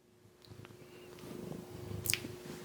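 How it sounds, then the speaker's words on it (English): A pet cat purrs close up indoors, a soft low rumbling that keeps going and swells slightly in intensity, with a faint mains hum beneath and a brief sharp rustle or click near the end. "I know you're purring."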